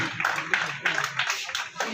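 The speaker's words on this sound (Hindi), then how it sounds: "जोरदार तालियां बजाते रहें।" Audience clapping at a sports closing ceremony where medals go to the winners, irregular bursts of hand claps at moderate volume with a voice speaking over them.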